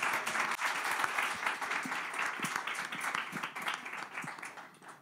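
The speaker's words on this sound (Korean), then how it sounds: "박수로 맞이해 주십시오." A book talk audience applauds with dense, steady clapping that carries on throughout and fades slightly at the end.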